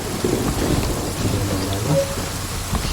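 Steady rain with rolling thunder from the weather in the video game Genshin Impact, a dense continuous wash with a low rumble beneath, loud and unbroken, with no talk.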